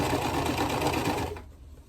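A sewing machine stitching a baby quilt block runs with a loud, close, steady whir and rapid needle chatter for over a second, then stops abruptly into near silence.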